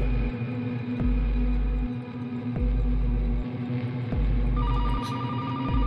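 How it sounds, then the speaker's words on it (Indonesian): A telephone ringing in repeated bursts with short pauses between them, heard over a low electrical hum; no one speaks. "Telepon bunyi lagi."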